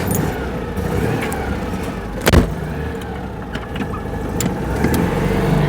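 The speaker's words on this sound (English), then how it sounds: "I'll give you some engine noises on this day." A car engine hums steadily at close range, with a brief louder rumble midway and faint road noise throughout.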